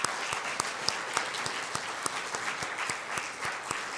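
A church congregation applauds steadily, with dense overlapping claps and a few sharper close claps standing out, moderately loud throughout.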